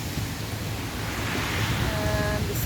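Floodwater from a river that has burst its banks rushes over a flooded riverside area near a submerged substation, a steady, broad roar of flowing water close by with wind noise and no speech.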